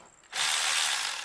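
A ratchet wrench loosens cylinder head bolts on a 1969 Datsun 1300 engine, making a single steady burst of fast, close clicking that starts abruptly and runs for about a second.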